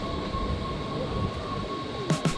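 Train riding toward Brussels, a quiet steady rumble of a rail car rolling along with a faint sustained tone and two brief squeaky rattles near the end.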